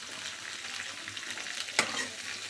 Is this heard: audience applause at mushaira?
no